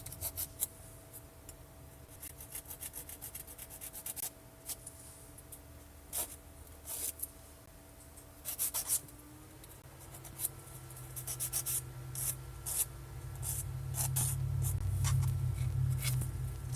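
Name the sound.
filing nails with a hand nail file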